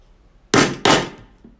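Two sharp, loud metal strikes of a hammer on a punch, about a third of a second apart, driving brogue holes into leather, with a faint tap trailing after.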